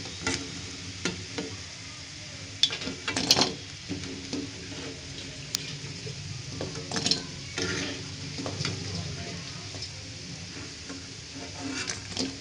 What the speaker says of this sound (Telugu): ముక్కలను ఈ విధంగా ఎరుపు రంగు వచ్చేలాగా వేయించుకోవాలి.